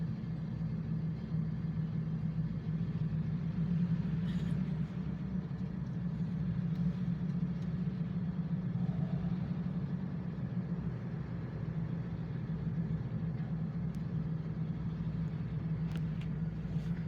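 Diesel locomotives of the Coke Express train idle steadily nearby, a continuous low rumbling drone with an even level throughout and no voices.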